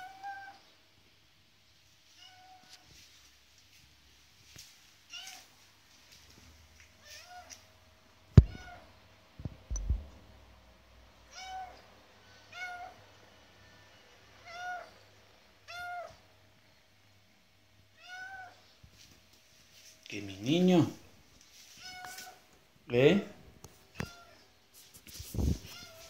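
A cat meows repeatedly indoors, short scattered cries in quiet early on, then louder, longer drawn-out yowls toward the end, with a person speaking briefly and some thumps.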